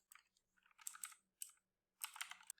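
Bursts of typing on a computer keyboard while entering code for an online 2D arrays lesson, quick clusters of clicks separated by short pauses, close and fairly soft.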